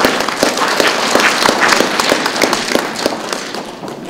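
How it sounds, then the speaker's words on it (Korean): Applause fills a hall at a civic award ceremony for a politician, many hands clapping in a dense, sharp patter that stays loud and close before tapering slightly. "여러분 큰 박수 부탁드리겠습니다."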